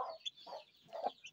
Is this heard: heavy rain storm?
no